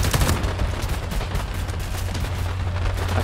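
Rapid automatic gunfire from a hard-kicking rifle in Homefront: The Revolution, a dense continuous burst of loud, close shots with a steady low rumble underneath and no talking.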